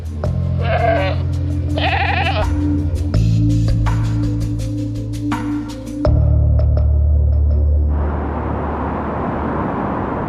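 Goats bleat loudly and close by in several wavering calls during the first half. A vehicle hum follows, and the clip ends in a wash of broadband noise.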